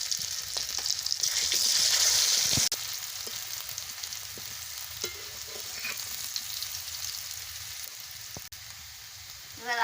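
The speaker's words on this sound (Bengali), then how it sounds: "এবার আমি আলুগুলো দিয়ে দিচ্ছি, দিয়ে ভালো করে ভেজে নিচ্ছি।" Potatoes frying in oil in a pan give a strong, steady sizzle with occasional stirring clatter and small pops, heard up close without any voices.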